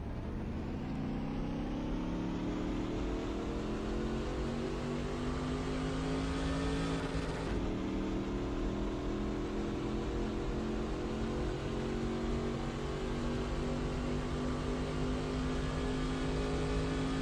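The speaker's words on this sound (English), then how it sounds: "you tell me if the engine noises are loud enough" Race car engines at night at Daytona in the NR2003 NASCAR video game, a loud sustained high-pitched drone of several cars whose pitch climbs steadily, with one brief shift midway.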